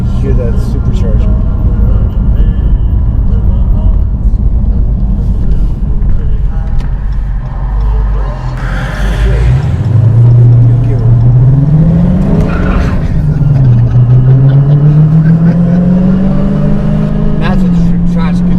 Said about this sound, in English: I actually want to hear that engine. I want to hear that supercharger.